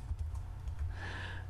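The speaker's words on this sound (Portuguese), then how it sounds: "na coluna C vou digitar o seguinte comando" A computer keyboard clicks in quick, soft keystrokes as a spreadsheet formula is typed into a GeoGebra cell, close and quiet over a low steady hum, with no talking.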